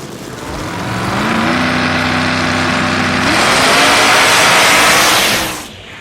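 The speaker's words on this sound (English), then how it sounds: "Next up, we got the Pro Mod Mustang of Xavier from Diecast Show Customs taking on Sinestro in the Firebird." Two drag cars, a Pro Mod Mustang and a Firebird, launch and roar down the strip, engines climbing in pitch and growing to a loud, sustained howl before cutting off near the end.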